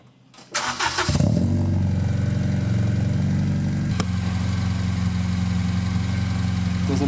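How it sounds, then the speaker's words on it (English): A 2003 Honda Civic Si EP3 with a cheap muffler, mid-pipe and race headers cranks briefly and catches, then settles into a loud, throaty idle with a deep exhaust drone and a slight blip partway through. "here is the first startup of this eBay ricer to expensive mid-pipe and race headers exhaust combination"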